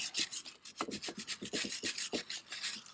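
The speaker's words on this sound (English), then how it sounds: "I'm going to take a wire brush, give it a quick clean," A wire brush scrubs a brake caliper housing in quick, rhythmic back-and-forth strokes, a series of close, scratchy rasps with short gaps between them and no voices.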